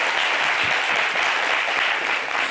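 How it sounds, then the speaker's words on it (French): A studio audience on a French talk show applauds a guest, with brief, continuous clapping at an even, moderate loudness and no voices over it. "On applaudit"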